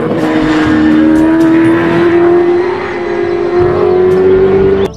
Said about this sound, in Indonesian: Wah, ada mobil balap.